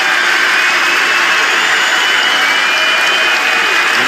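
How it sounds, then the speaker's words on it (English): An arena crowd at an NCAA March Madness Sweet 16 basketball game between Michigan and Auburn fills the space with a loud, continuous roar of applause and cheering, a dense wash of sound with no breaks. "Broom gets a well-deserved round of applause"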